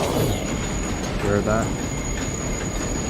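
Minecraft train rolling along rails in a Lenox Avenue subway build, a steady rumble with brief squealing wheel tones rising midway, heard beneath people talking.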